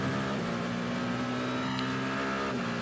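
Onboard race car engine with Sebastian Buemi driving, a steady droning engine tone with a sustained hum throughout, close and continuous with no talk.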